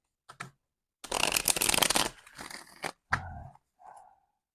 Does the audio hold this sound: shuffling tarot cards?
yes